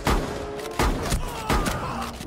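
Gunfire in Rainbow Six Siege: three heavy, booming shots land roughly evenly spaced, each with a sharp thump and a decaying tail, loud and close.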